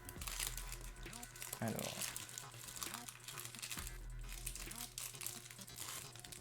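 Foil wrappers of F1 2021 trading card booster packs crinkling and tearing as they are opened, close and continuous under music, with someone speaking briefly.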